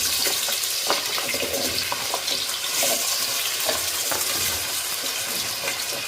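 Raw potatoes going into a pot for a chicken stew, with a steady wet hiss and sizzle running throughout, plus faint clatters and stirring sounds close by. Nobody speaks.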